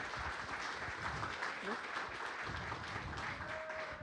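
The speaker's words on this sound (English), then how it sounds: "Y'all give them a round of applause." An audience at a Sunday family event applauds two panel guests walking onto a stage, steady moderate clapping through the whole stretch with voices mixed in.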